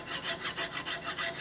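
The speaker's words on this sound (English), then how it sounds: "when you take a flat file and file across them" A flat file rasps across a Model A car trunk lid in about six even back-and-forth strokes, a faint, close, rhythmic scraping with no talking.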